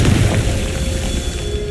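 A Confringo spell explodes in Hogwarts Legacy with a single deep, booming blast. The boom is close and loud at the start, then fades into a low rumbling tail.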